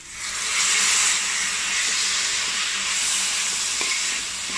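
Cleaned shrimp go into sizzling masala in a pan for idiyappam shrimp biriyani, giving a loud, steady frying hiss that swells at the start and holds throughout, with faint stirring and no talk.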